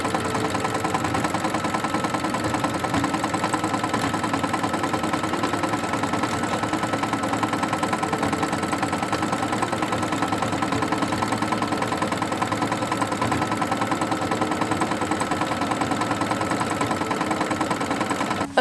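A sewing machine quilting fabric runs continuously in a fast, even mechanical whir with a steady rhythmic chatter, close and moderately loud, with no voices over it.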